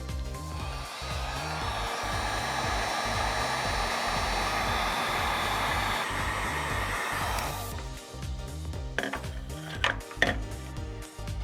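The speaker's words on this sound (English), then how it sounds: "I always like to heat shrink my connections." A heat gun blows steadily to shrink tubing over crimped wire connections while wiring a hydraulic diverter valve on a mini skid steer, a close whooshing hiss that cuts off, followed by a few small handling clicks.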